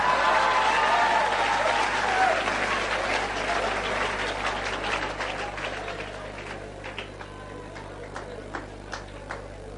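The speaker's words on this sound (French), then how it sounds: "Est-ce qu'on peut acclamer mon interprète?" A church audience claps loudly in a big burst of applause for a preacher's interpreter, starting dense and gradually thinning into scattered individual claps as it fades.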